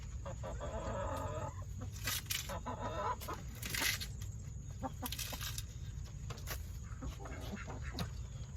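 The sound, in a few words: chickens clucking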